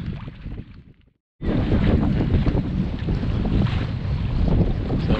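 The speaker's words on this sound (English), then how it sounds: "now we had a nice little sailing breeze, and now we're reefed and it's picking up" Strong wind roars over a reefed sailboat as the breeze picks up. Loud gusty rushing noise with water wash, a brief dropout near the start, then steady, heavy wind buffeting the microphone.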